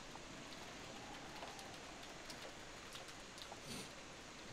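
Rain in the Umineko visual novel game falls as a faint, steady patter with a soft hiss, quiet and unbroken, with no voices over it.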